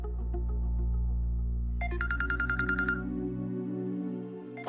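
A short electronic phone ringtone plays a quick run of repeated beeping notes over a low hum, then stops.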